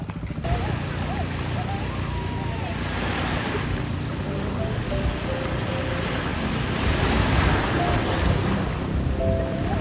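Sea waves wash steadily onto Masasa Beach in Tingloy, Batangas, with a continuous roar of surf and some wind, and voices are faintly audible underneath.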